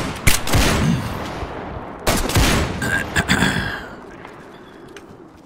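Bursts of video game gunfire crack out in quick volleys, loud and close, with a few scattered shots trailing off toward the end.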